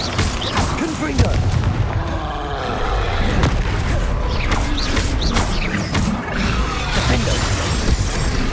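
Confringo fire spell explosions in Hogwarts Legacy, loud repeated blasts and crashes amid dense combat noise, with a voice talking during the fighting.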